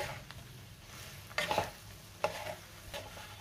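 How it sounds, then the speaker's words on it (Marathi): Okra being stir-fried in a pan for a besan bhendi masala, with a low steady sizzle and a few louder scraping stirs near the middle and toward the end; no one speaks. "आता आपण 2 मिनिटं भेंडी व्यवस्थित परतून घेऊयात."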